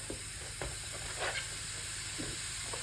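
Ice goes into a hot pot in the oven for a light rye sourdough loaf with pumpkin and sunflower seeds. It gives a faint, steady hiss of steam with a few small crackles and pops.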